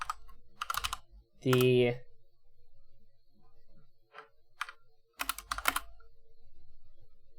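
Fingers type on a computer keyboard in quick bursts of crisp, close clicks separated by short pauses, with a brief spoken word between the bursts.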